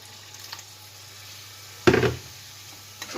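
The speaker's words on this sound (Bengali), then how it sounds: "তারপরে দিচ্ছি গরম জল" Hot water poured into a pan of cooking chicken keema gives a sudden short burst of splashing sizzle that fades within a fraction of a second, amid otherwise quiet kitchen background.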